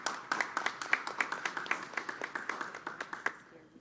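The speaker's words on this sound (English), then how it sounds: "We can give her a round of applause as well." Audience at a Racial Equity Commission meeting claps for a district representative, a steady patter of distinct handclaps at moderate distance that thins and fades out near the end.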